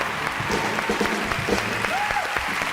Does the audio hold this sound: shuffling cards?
no